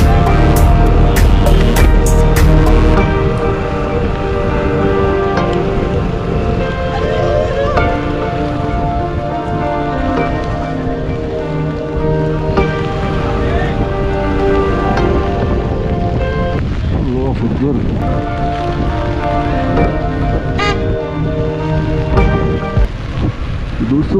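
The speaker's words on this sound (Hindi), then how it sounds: "मुस्तकिल बारिश हो रही है और आराम आराम के साथ नीचे जाना है।" Heavy, continuous rain pours down during a motorbike descent from Babusar Top past a line of vehicles, a loud, dense hiss that stays steady throughout with no speech.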